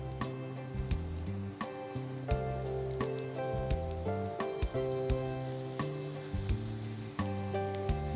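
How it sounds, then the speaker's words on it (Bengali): Vegetable cutlets fry slowly in oil in a pan over low heat, giving a continuous soft sizzle with occasional crackles beneath loud, steady background music. "কম তাপে ধীরে ধীরে ভাজতে হবে, না হলে পুড়ে যেতে পারে"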